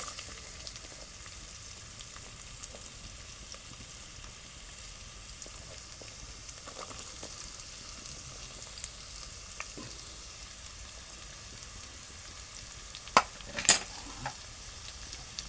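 Finely chopped onions fry with masala in a pan for a bottle gourd dish, making a faint, steady low sizzle, with a few brief clinks of utensils near the end.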